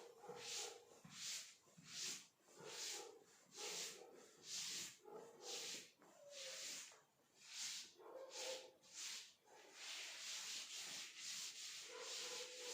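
Writing is rubbed off a classroom board in repeated back-and-forth strokes, a steady rhythmic scrubbing that swells and fades about once a second and stays close and clear, with no talking over it.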